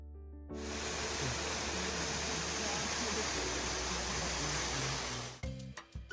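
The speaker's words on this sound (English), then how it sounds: "The waterfall is very peaceful and beautiful as well." Small waterfalls along a river in Osaka give a steady, broad rushing of falling water that starts suddenly and carries on for about five seconds before breaking off into a few faint knocks.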